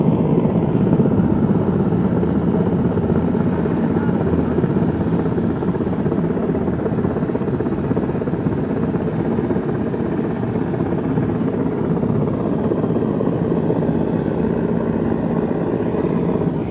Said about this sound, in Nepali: यहाँनिर हेलिकप्टरले 2 जना मान्छेको उद्धार गर्ने कार्य भइरहेछ